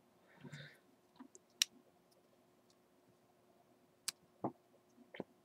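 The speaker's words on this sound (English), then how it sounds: "Let the brand new head fold up." Plastic clicks come from the head of a Transformers Prime Beast Hunters Deluxe Soundwave figure as it folds into place. A few sharp, isolated snaps are close and quiet, with soft handling rustle between them.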